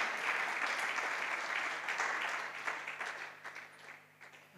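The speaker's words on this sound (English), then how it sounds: "May you clap for them." A church congregation at a Wednesday service claps for a large team, a broad wash of applause that swells early and then gradually thins and fades toward the end.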